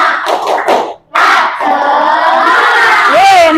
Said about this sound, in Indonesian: Coba yang masih semangat, tepuk semangat.